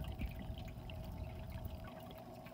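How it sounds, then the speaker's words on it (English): Water pours out the side of a Marineland Penguin Pro 125 power filter on a 20-gallon aquarium in a steady, close trickling splash, continuous and fairly quiet with no talking. "Water is quite literally pouring out the side of the filter."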